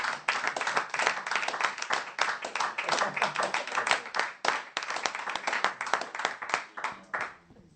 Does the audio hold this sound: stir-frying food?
no